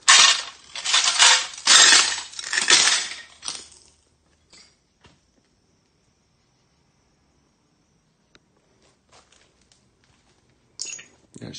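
Sheet glass shards crunching and crushing in an abandoned military base, a run of loud, close, gritty crunches in the first few seconds, then near silence with scattered faint ticks and a brief crunch again at the end.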